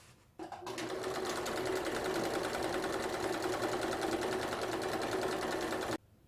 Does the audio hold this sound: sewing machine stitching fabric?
yes